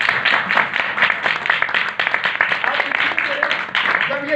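At a Sunday church meeting, the congregation claps for the volunteers, a dense, steady round of applause from a room of people, moderately loud, continuing for several seconds with voices underneath.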